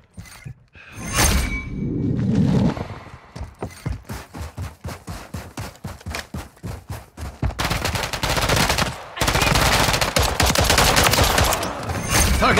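Rapid machine gun fire in Call of Duty: MWIII, with sharp, evenly spaced bursts hammering close and loud, then giving way to denser sustained fire with mechanical clatter.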